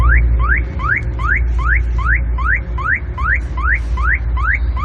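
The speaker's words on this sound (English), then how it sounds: "Yes, shock alarm." A Cardot DIY two-way car shock alarm wails in a steady, fast repeating chirp, about ten rising sweeps in five seconds, loud and close over a low rumbling background.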